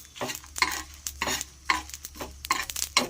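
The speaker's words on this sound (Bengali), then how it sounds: "দেখুন ভাজার একটা আওয়াজ আছে, যে ভাজা হয়ে গেলে যে আওয়াজটা" Cumin seeds frying in hot oil with a stirring utensil scraping and tapping the pan in quick bursts over a soft sizzle, nearby and without speech.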